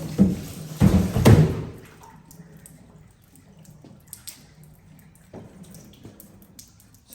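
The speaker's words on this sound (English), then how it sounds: "I'm gonna dump all water here." Water from a home water filter system being dumped out: a loud splashing pour in the first couple of seconds, followed by quiet drips and small knocks.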